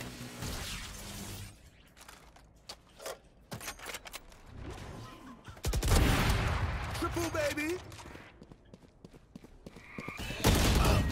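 Gunfire in the shooter game Valorant punches through a wall: sharp, loud bursts of shots cluster at two moments, separated by quieter stretches of scattered clicks and game effects.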